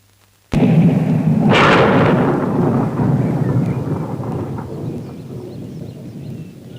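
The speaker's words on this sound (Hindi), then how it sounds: "जोर जोर से गरजो और जोर जोर से बरसो।" Thunder cracks suddenly in a Hindi-dubbed romantic movie scene, a loud close burst that swells into a long rolling rumble and slowly fades.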